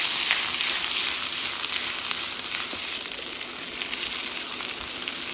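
Squid cooking with reshad masala in a pan, a steady bright sizzle and crackle that holds evenly throughout with no voices over it.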